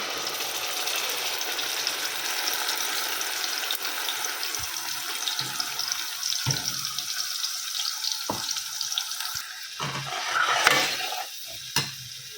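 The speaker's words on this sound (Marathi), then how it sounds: "आपण इथं सगळं वाटून टाकून घेतलं आणि वाटण छान शिजतंय" A ground masala paste cooks in hot oil for a chicken curry, giving a continuous sizzle broken by occasional sharp spatula scrapes and clinks, close with no talking.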